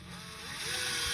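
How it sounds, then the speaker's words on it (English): Electric screwdriver fitted with a 3mm drill bit drilling through plastic feet, a steady whirring motor hum that builds slightly in loudness over a single short burst, heard alone. "I've got an electric screwdriver fitted with a 3mm drill bit, and I'm just going to drill through"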